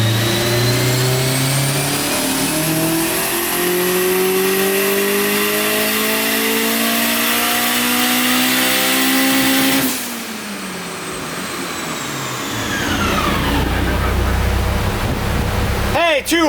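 A turbocharged Honda S2000 revs hard on a dyno at about 7 psi of boost, its loud engine note climbing steadily for ten seconds, then dropping away into a lower idle and rising briefly again near the end.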